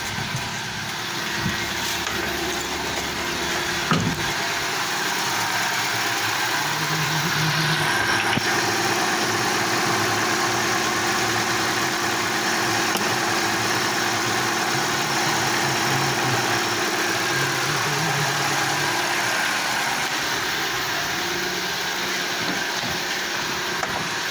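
A Daewoo Lanos engine idling while running on gas (LPG), a steady close mechanical hum with faint vibration, continuous throughout with no talk.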